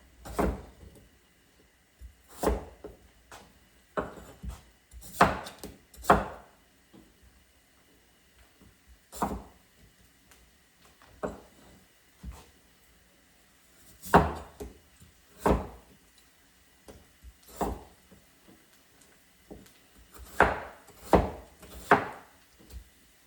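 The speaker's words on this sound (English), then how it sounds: "it's time to chop like potato" A knife chops through potatoes on a board, sharp irregular thunks in small bursts with pauses between, close and fairly quiet.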